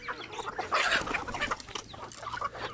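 Chickens cluck loudly and close by, with a Rhode Island Red rooster among a mixed free-range flock, giving busy overlapping calls throughout.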